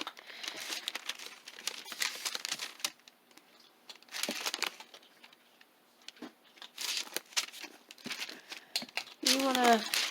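Wax or parchment paper crinkles in bursts on a work surface as clay is shaped on it, alternating with quiet gaps, while a person talks throughout.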